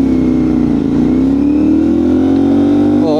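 A motorcycle engine, either a 450SR or a CBR650R, revs loud and close, its pitch climbing steadily and then dipping briefly near the end, with a steady engine drone underneath and no talking.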